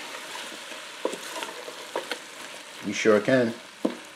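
Canned corned beef being stirred and mixed in a hot pan, a soft ongoing sizzle with scraping strokes underneath, close by, while a person speaks briefly over it.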